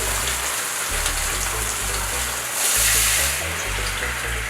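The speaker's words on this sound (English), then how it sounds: "I want to add a little bit of water as well" Water poured into barbecue sauce in a home kitchen while making a hot wing sauce, giving a steady close splashing trickle that swells briefly midway.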